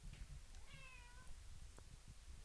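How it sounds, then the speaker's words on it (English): A house cat gives a single short meow with a rising tone, faint, over low room noise and soft rustling. "did you guys just hear his meow?"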